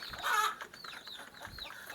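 Free-range village chickens cluck softly nearby in short, overlapping calls while eating, with faint scratching and pecking sounds.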